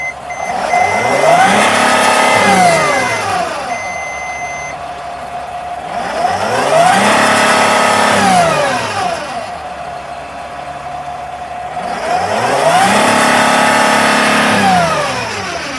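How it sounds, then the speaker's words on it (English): Sprinter van diesel engine with a clogged DPF, revved three times in succession, each rev rising and falling in pitch with a steady idle between, loud and close with no talking. "I'm gonna rev it up."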